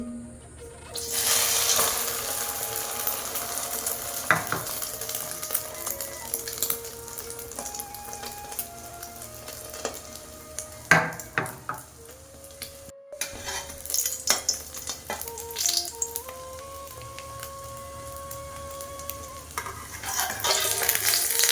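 Egg-dipped bread slices fry in a hot pan for egg toast with a steady crackling sizzle, broken by stirring, scraping and clinks of a utensil against the pan, close and fairly loud with no talking.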